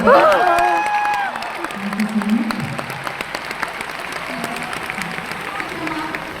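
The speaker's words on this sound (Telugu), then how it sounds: "చప్పట్లు కొడతారు కదా." A live concert audience at Shilpakala Vedika in Hyderabad breaks into applause, a broad wash of clapping and some cheering that starts loud and tapers off, with a voice talking over it early on.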